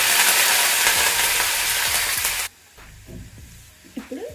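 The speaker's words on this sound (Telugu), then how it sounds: "ఇప్పుడు ఇది కొంచెం వేయించుకుందాము, 1 నిమిషం పాటు వేయించుకుందాము." Garlic paste and curry leaves frying in a pan, a loud steady sizzle that cuts off abruptly partway, leaving faint crackles and small stirring knocks.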